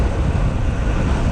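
Strong coastal wind roars and buffets continuously and loudly against a car on a seaside road near Marseille, with a low road rumble beneath it.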